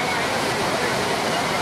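Heavy rain pours over the city of Cali at nightfall, a dense, steady hiss of falling water that fills the whole stretch without a break.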